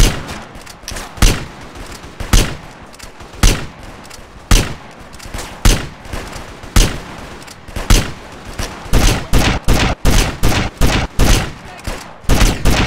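Submachine gunfire in the video game GTA Underground: repeated loud bursts and single shots crack out in an uneven rhythm, growing into rapid clustered volleys toward the end.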